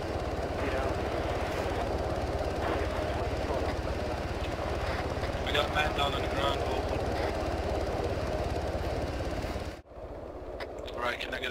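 A helicopter during a fast-rope operation drones steadily and loudly throughout, a constant rotor and engine roar with people talking faintly over it.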